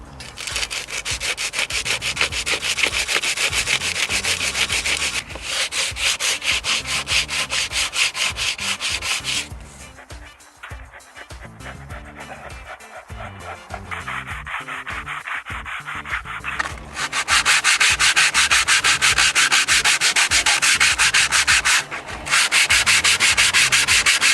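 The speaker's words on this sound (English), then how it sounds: "I now need to sand away the excess" Steady, loud rasping of a sandpaper block rubbing back and forth across wood filler on a window, continuous for a long stretch with a quieter softer passage in the middle.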